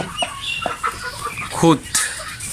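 Desi chickens cluck in short, scattered calls close by, with a louder squawk near the middle and faint background noise around them.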